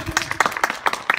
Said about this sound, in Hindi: तालियां बजाओ बच्चों,